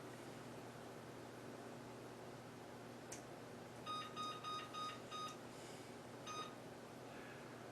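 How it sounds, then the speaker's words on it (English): An oven timer is set for roasting a turkey, giving a quick run of faint electronic beeps from button presses against a steady background hiss. "I'm going to set the timer here for an hour."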